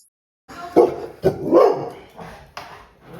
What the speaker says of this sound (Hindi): क्यों भौंक रहा है, ये शीशा लेके जा रहे हैं तो भौंक रहा है ये।